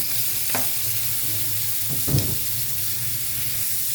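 Tomatoes hitting a hot pan for pinakbet, sizzling steadily with a couple of scraping stirs of a utensil over a continuous frying hiss.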